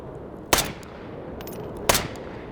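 Two sharp rifle shots in the H3VR game ring out alone, about a second and a half apart, each with a short echoing tail over a quiet background.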